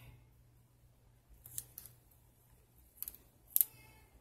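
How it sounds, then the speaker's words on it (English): Scissors cut a washi sticker into pieces, heard as a few quiet, crisp snips spaced apart and ending in a sharper double cut, close over a faint background hum. "But you can cut these in pieces"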